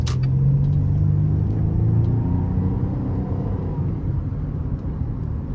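A 2012 Buick Enclave 3.6 SUV with 161,000 miles accelerates, its engine and road rumble droning steadily as the pitch rises, heard from inside the cabin.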